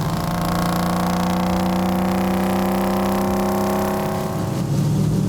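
A supercharged 1968 Chevy Camaro RS/SS accelerates with a loud, close, sustained engine roar that holds steady, then shifts near the end.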